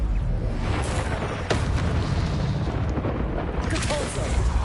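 Incendio fire spell cast in Hogwarts Legacy, a sharp burst over a steady roaring, crackling din of game combat, with a loud sudden hit midway and another surge near the end.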